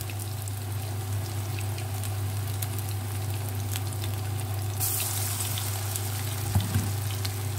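Chana masoor dal pakoras frying in a pan of oil, a steady close sizzle with soft crackles and a brief clink near the end, no talking.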